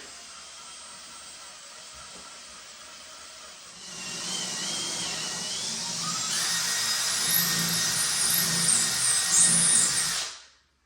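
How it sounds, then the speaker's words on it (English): A power drill bores a pilot hole into a wooden newel post, spinning up after a quiet start into a loud, steady whine that climbs slightly in pitch for about six seconds before stopping abruptly. "I'm going to start drilling."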